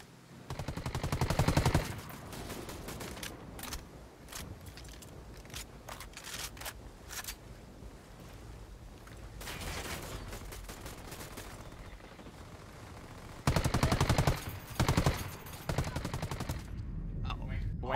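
Gunfire in Ghost Recon Wildlands during co-op play, rapid bursts of shots crackling at moderate volume with quieter gaps, heavier volleys near the start and again late on.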